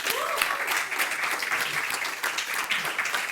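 An audience applauds at a payments masterclass, giving a dense, continuous burst of clapping that stays loud and steady throughout, with no speech over it.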